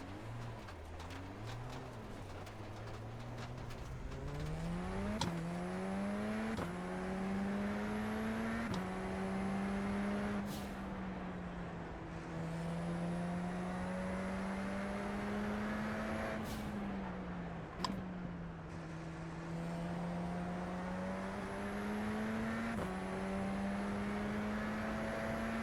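Radical race car engine from the Radical E-Cup series in iRacing, droning steadily with repeated upshifts and rising revs, then brief lifts and downshifts, loud and close throughout with no talking.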